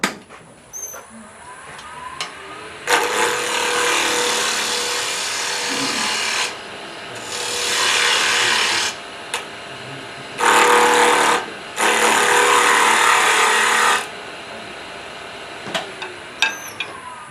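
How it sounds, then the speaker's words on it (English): A wood lathe turns a tenon on a bowl, with a gouge cutting the spinning wood in several loud, scraping bursts of a few seconds each, separated by quieter gaps where the motor hums on its own. "I'm going to turn this down a little bit more so I can make a tenon right here."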